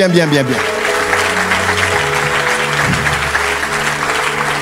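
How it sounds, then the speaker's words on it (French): Sustained loud applause from an audience at a prophetic church service, steady and dense throughout, with sustained music tones underneath. "Acclame bien là où tu es."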